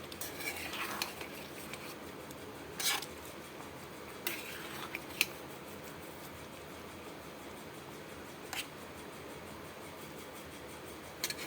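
Homemade paneer pieces cooking in a pan for paneer pasanda, with a few sparse spoon clinks and stirring scrapes over a quiet, steady low hiss.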